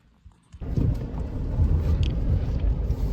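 A Mazda CX-5 starts pulling away after a transmission service and runs up through the gears, its engine and road noise building into a steady, loud low rumble close by.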